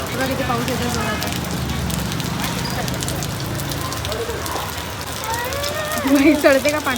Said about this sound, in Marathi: बघा किती पाऊस येतो जोरात.